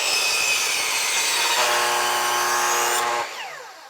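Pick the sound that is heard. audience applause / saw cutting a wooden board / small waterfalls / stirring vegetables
saw cutting a wooden board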